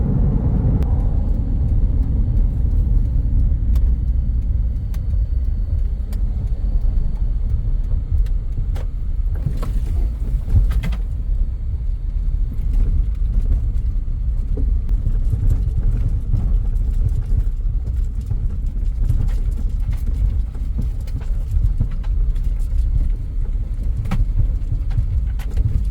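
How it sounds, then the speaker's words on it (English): A car drives along the Hummingbird Highway in Belize, heard from inside as a steady, loud low rumble of engine and road noise with a few brief rattles and no talking. "Take a short ride with us to the laundromat today. On the beautiful Hummingbird Highway."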